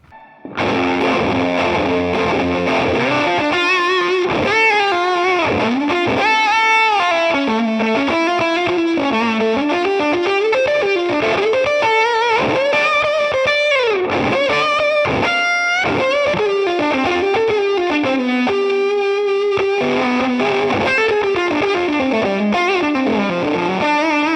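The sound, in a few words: fuzzy distorted electric guitar tones, Dale Wilson '72 Thinline Telecaster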